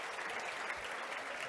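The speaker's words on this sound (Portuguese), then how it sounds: "Uma salva de palmas para todo mundo" A church congregation at a Bible class breaks into applause, a dense, even patter of many hands clapping together, quiet and slightly distant.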